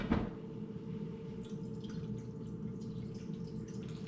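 Cooling water from a pump circulates through a steam distillation setup for lavender, giving a faint, steady low flowing hum with small scattered drips and trickles, close by and with no talking.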